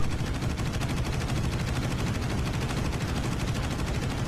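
Dense, continuous enemy gunfire in the naval combat video game Battlestations Pacific, a rapid unbroken rattle of shots at steady loudness with no voices.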